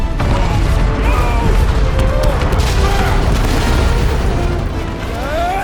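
A dense, roaring blast of set charges going off in the Guardians of the Galaxy video game, loud and sustained, with rumbling debris over the whole stretch.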